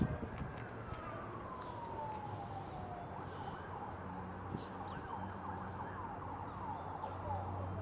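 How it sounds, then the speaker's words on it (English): Wailing police and ambulance sirens rise and fall in the distance, heard faintly under a steady background murmur of a crowd outdoors at a football match. "police siren, as well as the ambulance on the outskirts of Skinner Park here"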